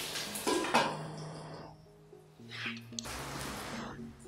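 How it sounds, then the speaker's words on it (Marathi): A lid goes onto a pan of stuffed bitter gourd (bharli karli) cooking on the stove, with a few close clatters and a metallic clink early on, then a low steady kitchen hum. "तर आपण याच्यावर झाकण ठेवून त्याला शिजवूया।"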